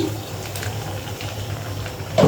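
Lentil and jackfruit seed curry with vegetables simmers in a pot, giving a steady low bubbling under faint background hum, with a brief louder splash or clatter near the end.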